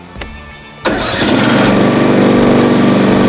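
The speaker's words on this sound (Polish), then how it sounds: "i traktorek mamy już odpalony" A Scheppach MR196 lawn tractor engine cranks briefly, catches with a sharp start, then settles into a loud, steady idle close by.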